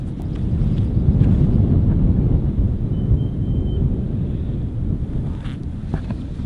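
Gusty wind buffeting a microphone on an open golf course, a continuous loud low rumble that swells and eases with no voices.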